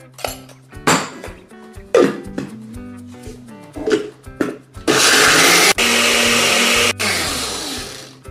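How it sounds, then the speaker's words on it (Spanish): A blender whirs loudly for several seconds, blending a garlic, vinegar and salt marinade for anticucho-style chicken gizzards, preceded by clinks and knocks of kitchenware and broken by brief pauses. "Y lo llevamos a licuar."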